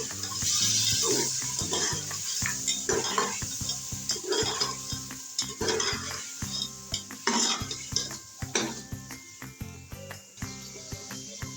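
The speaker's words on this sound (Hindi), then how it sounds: "इन पीसीस को हम इसके अंदर 2 मिनट तक फ्राई करेंगे" Boiled mutton pieces fry in a pot with a steady sizzle, while a spoon repeatedly scrapes and stirs against the metal in uneven, clattering strokes close by.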